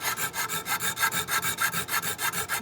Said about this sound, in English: So now I'm going to trim the sides of the dovetail a little bit.